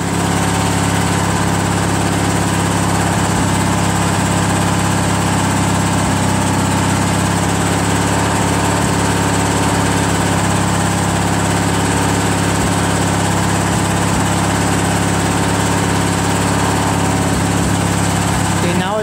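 A Craftsman LT1000 lawn tractor with a Briggs 21HP opposed twin engine idles at low throttle, a loud, steady drone running unbroken from start to end.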